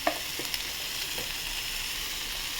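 Cumin and coriander powder sizzle in hot oil in a pan for a soybean curry, a steady close frying hiss with a few light clicks of stirring near the start.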